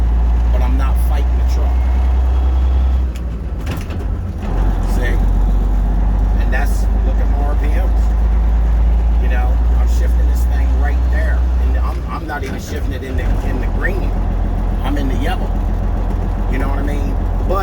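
A vehicle engine droning at low RPM while riding down the highway, a loud steady low rumble with road and wind noise that briefly dips and returns, with a voice talking over it.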